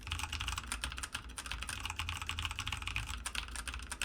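Steady, fast typing on a mechanical keyboard fitted with brown switches, a dense run of close clacks with a low thock from the stabilized keys, continuous for about four seconds with no voices.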